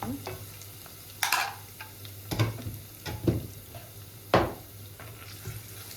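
Garlic frying in a pan and being stirred, a low steady sizzle broken by several sharp scrapes and knocks of a utensil against the pan, close by and without talk.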